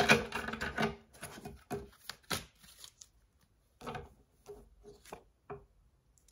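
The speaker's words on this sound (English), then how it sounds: "let's just do a quick little shuffle and then we'll call it" Dreams of Gaia tarot deck shuffled by hand, bursts of riffling card flutters and soft taps in several short clusters separated by near-silent gaps, close and quiet.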